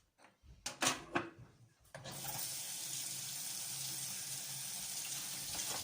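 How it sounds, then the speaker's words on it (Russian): Tap water runs into a kitchen sink while dishes are washed, starting with a few clinks and knocks of crockery, then a steady close hiss of flowing water that continues to the end. "посуду почти домыла"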